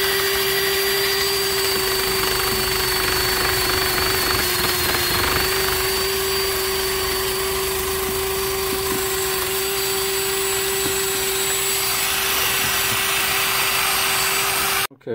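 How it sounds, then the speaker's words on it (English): Wire wheel grinding carbon off a Mopar 906 big block cylinder head, a loud steady whine with scraping grit, constant for the whole stretch, then cutting off right at the end. "So we'll go ahead and wire wheel this off."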